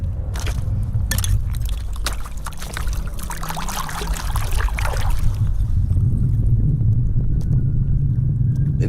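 Water pours and trickles over a muddy Rolex watch found while mudlarking on a riverbank, splashing and dribbling close by for several seconds.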